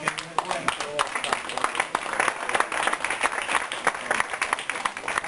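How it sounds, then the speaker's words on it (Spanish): A church congregation claps together in dense, continuous applause with no clear break, mid-level in volume. A voice carries over the clapping. "Denle un aplauso al Señor"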